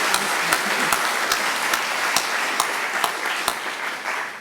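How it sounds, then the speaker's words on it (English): A university graduate student orientation audience gives a steady round of applause, a dense mass of clapping that holds at an even level and eases off at the close, with a few sharper claps standing out. "let us all give them one more big round of applause for what they say."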